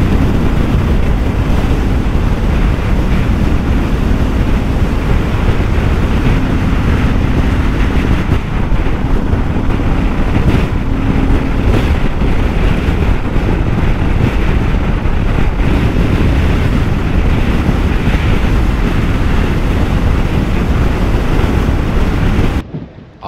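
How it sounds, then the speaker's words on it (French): Loud, constant Sahara desert wind roars and buffets the microphone for the whole stretch, with no voices or pauses. "Et il y a un vent, mais c'est juste impressionnant."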